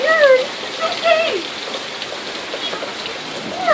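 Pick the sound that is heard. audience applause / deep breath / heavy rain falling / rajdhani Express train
heavy rain falling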